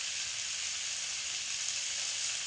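Potatoes frying in a pan with salt and turmeric for a vegetarian singara filling, a steady, even sizzle close up with no other sounds.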